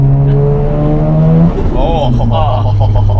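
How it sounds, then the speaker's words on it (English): A loud Mazda RX-7 engine revs hard with fluttering, chattering bursts from the turbo as the throttle lifts, the pitch stepping up and down. "It makes some really cool flutter sounds."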